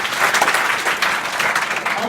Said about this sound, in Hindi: अश्विनी के लिए जोरदार ताली